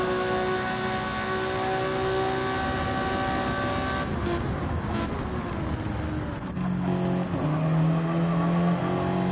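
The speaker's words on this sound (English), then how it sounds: "Revving the absolute living bejesus out of that car." An Audi TT Gr.4 race car engine revs hard during a Gran Turismo race at Barcelona, its loud whining pitch climbing and dropping through gear changes amid other cars, with no talking.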